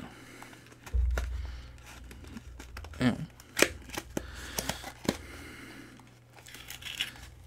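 Cardboard and plastic packaging of a K&F Concept camera filter being opened, tight box pulled apart with close crinkling, tearing and tapping sounds over a low background hum.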